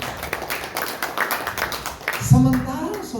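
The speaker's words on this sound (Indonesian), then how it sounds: "Ya, tepuk tangan." A church congregation at Sunday worship claps in quick, uneven bursts, fairly close, before a brief voice rises near the end.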